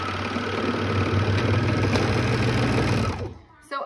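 A sewing machine runs a steady, fast stitching whir while sewing a tag onto a romper, loud and close for about three seconds before stopping, followed by a brief rustle.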